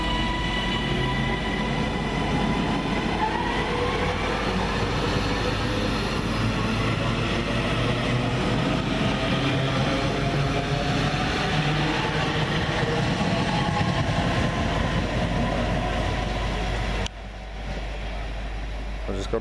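A Class 397 passenger train pulls out of Lockerbie station bound for Manchester, a steady, loud rumble and whine of traction motors and wheels that drops away near the end.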